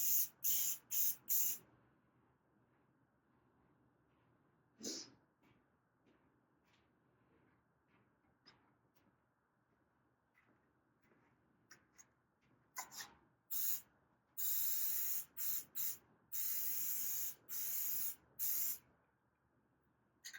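Short bursts of a spray gun laying a coat of finish on a mandolin, a few quick hisses at first and then a run of evenly spaced sprays with quiet pauses between.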